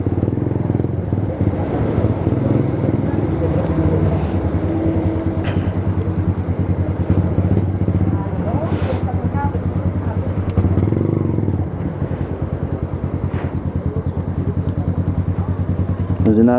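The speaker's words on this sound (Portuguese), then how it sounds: "Fazendo as balizas de moto" A motorcycle maneuvering while parking, its engine idling and revving at moderate volume with occasional clatter, continuous throughout, with someone talking intermittently over it.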